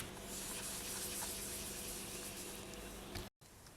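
Polymer clay pendant being sanded with sandpaper, a steady close scratchy rubbing that runs unbroken for several seconds, then cuts out briefly and resumes more softly.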